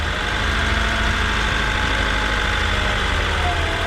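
A 1999 Honda Civic engine idles rough and uneven, misfiring with a spark plug wire pulled and a fault on cylinder 3. The steady mechanical drone has a shaky, lumpy pulse and stays close and loud throughout, with no talking.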